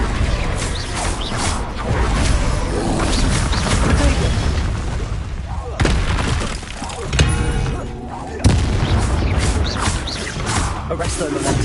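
Blasting-spell explosions in Hogwarts Legacy combat rumble without pause through dense game noise, with loud booms, cracks and crashing bursts, and sharp fresh blasts striking near the six- and eight-and-a-half-second marks.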